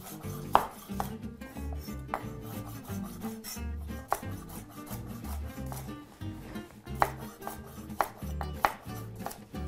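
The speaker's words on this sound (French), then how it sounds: "on les coupe en biseaux." Knife slicing peeled carrots on the bias against a cutting board, a run of crisp, irregular chops and scrapes, close and fairly quiet with no talk.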